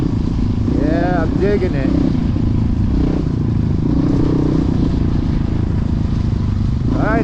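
Honda CRF450X dirt bikes, a 2006 and a 2020 model, ride through snow at Hungry Valley near Gorman, their engines droning steadily throughout with rising revs, while riders talk over the noise.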